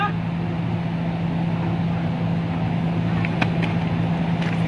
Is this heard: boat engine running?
yes